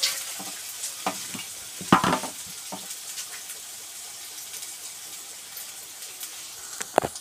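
A fish curry base of mustard paste sizzles in a pan for a katla fish curry, with a steady low frying hiss broken by a few sharp spoon scrapes and knocks, close and without talk.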